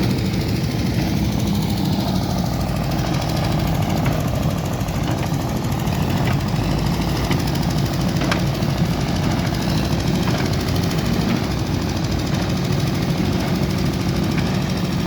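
A Fordson E27N tractor engine runs with a Massey Harris 701 baler baling straw, a continuous loud rough chugging and mechanical rattle held steady throughout, no voices.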